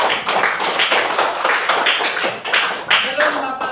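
A classroom of students clapping hands together, a quick rhythmic patter of many claps running steadily for a few seconds with a voice briefly audible near the end.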